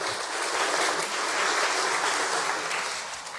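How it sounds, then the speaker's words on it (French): Audience applause at a community event with a rabbi present, a sustained wash of clapping from a sizeable crowd, fairly even in loudness before easing slightly at the close. "On applaudit."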